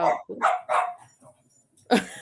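A phone ringtone of a few sharp dog barks in quick succession with a slightly thin, electronic quality, followed by a pause and one more bark.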